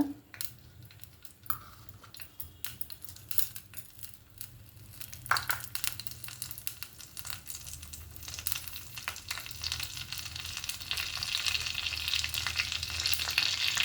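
Mustard seeds and cumin fry in hot oil for a Telugu-style katte pongali, crackling and popping in sharp scattered bursts that build into a dense, steady sizzle, with occasional utensil scrapes.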